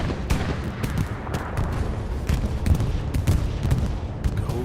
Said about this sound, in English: Let's see how this bombing run does.